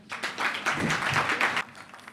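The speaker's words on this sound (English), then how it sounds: "Give her a round of applause." A brief burst of audience applause greets a columnist stepping up to speak at NB Live 2014, rising quickly, holding for about a second and a half, then fading out.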